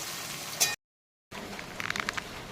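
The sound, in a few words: rain falling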